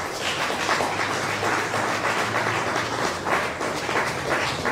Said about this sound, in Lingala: Bamwana Bavandi Pembili, si on peut l'applaudir.